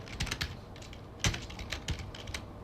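A ipconfig command being typed on a computer keyboard at a Command Prompt: a quick run of light, close key clicks with a few heavier strokes, as if a spacebar or enter key, and no talking.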